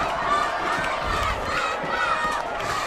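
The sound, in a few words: loud crowd cheering at boys lacrosse game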